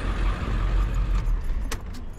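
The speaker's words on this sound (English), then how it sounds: "I got the wrong keys." Bunch of keys jangling briefly over an outdoor background rumble, near a truck at a scrap yard, a short metallic rattle close by with no talking.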